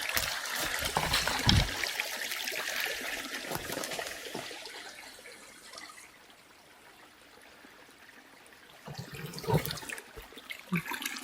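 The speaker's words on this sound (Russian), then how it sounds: "Так вот спускается водичка." Water flows and trickles steadily in a small stream, a constant rushing wash that softens midway before swelling again.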